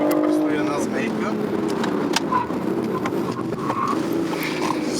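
BMW i8 accelerating hard around a race track, its engine and road roar heard from inside the cabin, steady and loud, with someone talking over it throughout.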